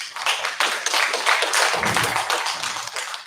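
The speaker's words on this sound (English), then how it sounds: "Give her a round of applause." Audience claps for a speaker at a student association presidential election dialogue, a short dense burst of hand claps lasting a few seconds with no voices over it.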